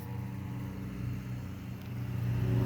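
A car with a loud muffler drones past outdoors, its low engine hum swelling and growing louder toward the end, with no talk over it.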